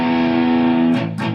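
Heavily distorted electric guitar through a Lundgren Sucker Bucker pickup, one loud sustained chord ringing thick and buzzy before it is cut off and a quick second strum follows.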